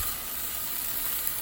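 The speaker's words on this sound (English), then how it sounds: "Nice initial sizzle there." A plant-based Beyond Meat burger patty sizzles in a hot pan, a steady bright hiss of frying throughout with no talking.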